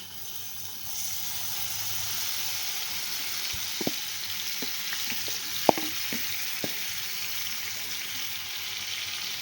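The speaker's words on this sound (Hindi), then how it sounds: "अब हम ये चिकन इसके अंदर डाल देंगे जो हमने मैरिनेट करके रखा हुआ था।" Marinated chicken sizzling in oil in a frying pan for homemade chicken shawarma, a steady close hiss with scattered pops and clinks through most of the clip, no talking.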